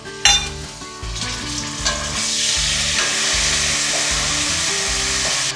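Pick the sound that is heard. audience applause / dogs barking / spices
spices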